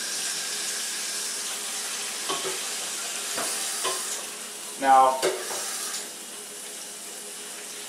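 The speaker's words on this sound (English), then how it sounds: "I'm gonna add just a little bit of water in here. Gotta be careful, because it's gonna splash that hot oil." Water poured into a pot of hot oil with wild game ribs sets off a loud burst of sizzling and splashing over steady frying, then eases back to a low crackle.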